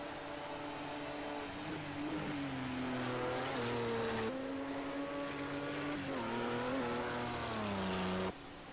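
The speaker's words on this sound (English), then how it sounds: "So look at Gaz here in the Audi as he comes up to the Ascari chicane" An Audi race car in a racing video game drives through the Ascari chicane at Monza. The engine drone drops under braking, steps through downshifts and climbs again as it accelerates, with no talking.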